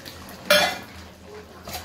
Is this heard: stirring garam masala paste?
yes